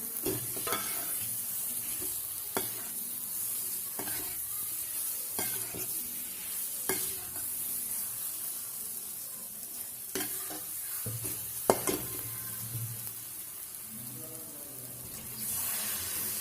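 Potatoes are stirred into sizzling masala in a pan for Kashmiri aloo dum, a steady fry hiss broken by repeated scraping strokes and occasional taps of the spoon.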